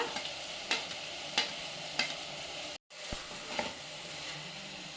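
Grated dry coconut frying for vegetable palav, stirred with periodic spoon scrapes every second or so over a constant hissing sizzle, with a brief silent cut midway and no voices.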